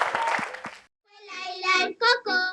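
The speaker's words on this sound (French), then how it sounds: "On s'applaudit" A studio audience at a Christmas special children's TV show claps in brief, close applause, which quickly gives way to voices chanting in a sing-song rhythm.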